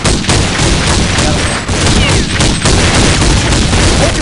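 Rapid, loud bursts of gunfire ring out in Counter-Strike on a pool day map, sharp repeated shots layered over one another in a dense volley that runs nearly the whole time.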